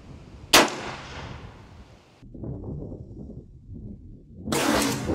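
A Serpent Arms airgun shotgun fires one sharp, loud shot at a turkey target 20 yards away outdoors, followed by a short rustle and a second swell of noise near the end.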